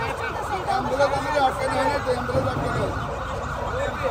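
Ambulance sirens wail from several vehicles stuck in a traffic jam. The rising and falling tones sound at mid-distance, continuous beneath people talking nearby and general street noise.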